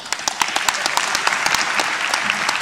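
An audience of high school students applauds at an assembly, with a steady brief burst of clapping and sharp nearby claps punctuating the wash.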